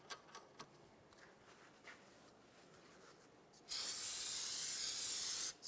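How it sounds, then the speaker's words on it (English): Brake parts cleaner sprays onto a 2004-2009 Toyota Prius front brake rotor in one close, loud hissing burst lasting about two seconds, following quieter handling noises. "Spray some brake parts cleaner on the outside and wipe it down."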